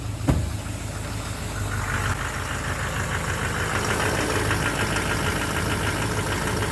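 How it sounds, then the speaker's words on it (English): A Duramax LMM diesel engine runs steadily at idle, with a faint rhythmic knock from cylinder number 3 ticking through the low rumble; a brief clunk sounds near the start. "There's that knock in number 3."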